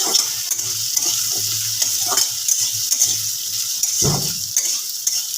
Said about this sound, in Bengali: এবার দিয়ে দিচ্ছি আমি এর মধ্যে হলুদের গুঁড়ো হলুদের গুঁড়োটা দিয়ে হলুদের গুঁড়োটা দিয়ে আমি এবার একটু নাড়াচাড়া করে নিই